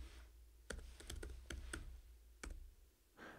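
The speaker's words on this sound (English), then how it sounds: "now we're going to test this by typing in the URL" Keystrokes on a computer keyboard while entering a web address, a handful of crisp clicks in an uneven rhythm, some bunched together, close and fairly quiet.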